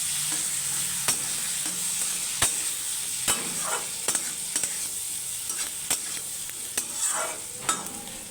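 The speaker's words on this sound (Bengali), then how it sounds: "আদা লঙ্কা পেস্টটা এটা আমি মধ্যে দিয়ে দিয়ে ভালো করে কষাবো" Ginger-green chilli paste frying in a pan, a soft steady sizzle under regular sharp clicks and scrapes of a spoon against the pan.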